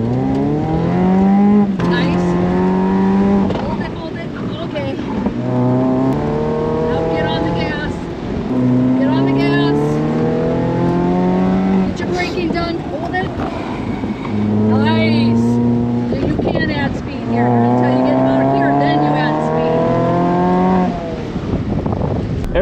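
A tuned Mazda Miata on a race track, its engine revving up and down through repeated rising pulls and gear shifts, loud and close from inside the car, with voices talking over it.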